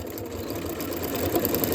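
A sewing machine back stitches fabric for a scrap-fabric jar opener, a steady close mechanical whir with a fast needle chatter that swells slightly near the end, with no speech.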